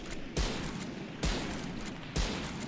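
Marshal sniper rifle firing in Valorant on console: three loud, sharp shots spaced evenly about a second apart, each with a heavy low boom and a short tail, no talking.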